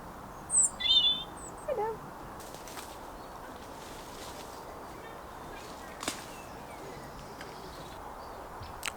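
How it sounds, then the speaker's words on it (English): A robin sings in the open outdoors, a few brief, clear, high chirping phrases early on, then quiet background ambience. "Kim's favourite bird, the robin."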